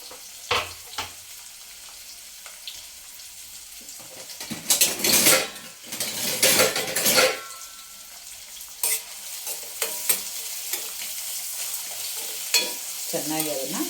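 Chopped onions frying in a pan for egg rice, with a spoon scraping and clattering against the metal in irregular bursts over a soft, steady sizzle.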